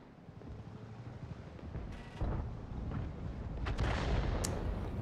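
In World of Tanks, a tier 9 Bat.-Châtillon 155 55 artillery gun fires and its shell strikes a house. A heavy, booming roar swells with a few sharp cracks and blasts over a constant rumbling background.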